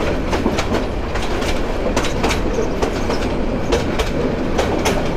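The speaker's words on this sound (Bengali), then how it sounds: "আমাদের ট্রেন আস্তে আস্তে লাকসাম জংশনের প্ল্যাটফর্মে প্রবেশ করছে" Meghna Express intercity train rolling slowly into the platform at Laksam Junction, with a steady loud rumble and repeated wheel clacks over rail joints, no voices.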